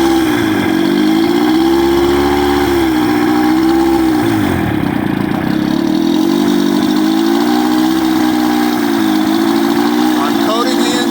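An old Johnson outboard motor runs steadily while being winterized, a loud, continuous droning hum with a wavering pitch that dips briefly mid-way, close and sustained throughout.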